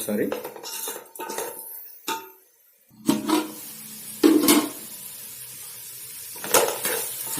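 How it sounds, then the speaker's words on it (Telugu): Drumstick sambar stirred in a metal pot, a spoon scraping and clinking against the sides in several bursts of clatter separated by brief quiet gaps. "వేసుకుని ఒకసారి మళ్ళీ తిప్పుకోండి."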